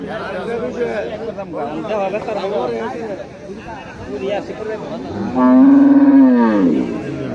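A cow lets out a long, loud moo near the end, after a stretch of crowd chatter and voices at a busy outdoor cattle market in Cumilla.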